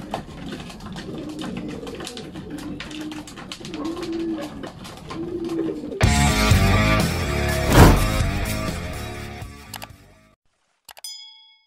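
Racing pigeons coo in a steady, repeating rhythm for several seconds, then a loud clattering, ringing burst of noise swamps them before fading to quiet and a few faint dings.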